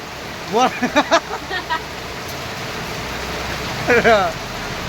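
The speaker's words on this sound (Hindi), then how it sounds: "वर्षा देखो भाई ना वर्षा" Steady rain pours down during a downpour in Sambalpur, a continuous wash of hiss throughout, with nearby voices talking briefly over it in two short bursts.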